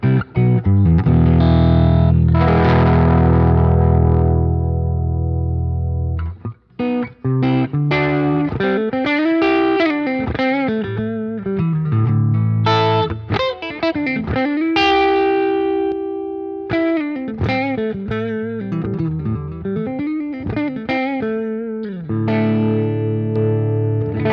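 Electric guitar through a Wampler Tumnus overdrive boost pedal with a touch of grit, played as sustained chords and then bending melodic lines, bright and full with a slight edge.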